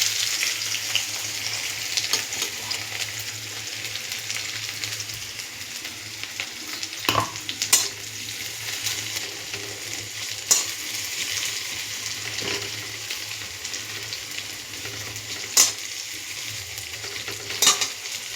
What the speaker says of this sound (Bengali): এবারে আমি পেঁয়াজগুলোকে ছেড়ে দেবো।